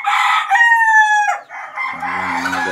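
A rooster crows loudly and close, one full drawn-out cock-a-doodle-doo with a falling tail, followed by lower clucking and other farmyard fowl calls.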